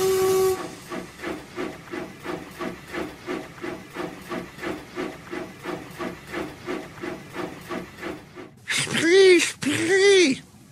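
A small railway steam engine chuffs in a steady, evenly spaced rhythm, then lets out two loud, shrill whistle blasts near the end, with a narrator's voice also present.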